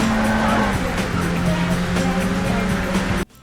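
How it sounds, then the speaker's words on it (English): Steady droning race-car engines in the video game Burnout 1, loud and continuous, with a sustained tonal whine and some tire noise, cutting off abruptly at the end. "With the sound of the engines"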